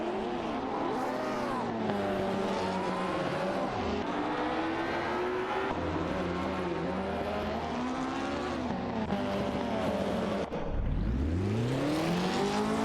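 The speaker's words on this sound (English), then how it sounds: "Automobile dashing." Race cars in an AI racing game roar continuously at high revs, engine pitch climbing and falling through gear changes, with a sharp whooshing sweep near the end as a car passes close by.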